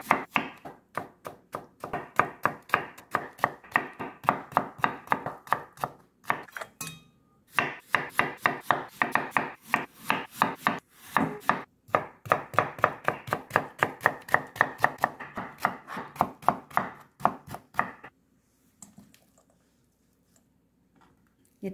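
Cucumber sliced thinly with a knife on a cutting board, a fast steady run of crisp chopping taps with a couple of short pauses, close and clear, ending in near silence.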